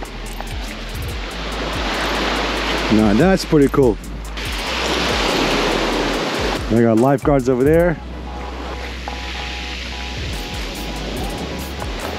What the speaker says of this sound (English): I hear the beach, I hear the ocean and the sun.